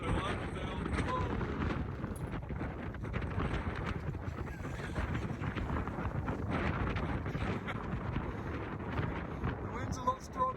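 A strong katabatic wind near the Isle of Man blusters constantly across the microphone, a loud, rough, low buffeting roar throughout with no break.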